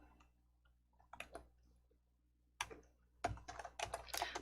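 Keys clatter on a computer keyboard as a file name is typed, close and quiet, in a few scattered taps followed by a denser burst of quick keystrokes near the end.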